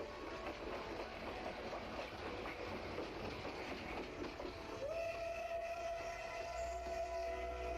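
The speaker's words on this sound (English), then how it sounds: "No, it's just the train." A train rolls on rails in a 1972 horror film, giving a faint, continuous rumbling clatter; a sustained whistle-like tone joins midway and holds to the end.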